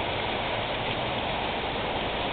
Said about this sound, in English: Look at the rain gutter. I hope the camera gets this. It's actually overflowing.